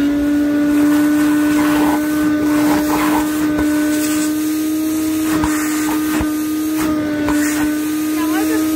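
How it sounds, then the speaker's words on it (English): A vacuum cleaner drones steadily with a strong whining tone while cleaning out a termite-infested wooden mailbox, with voices talking over it throughout. "Vacuum that"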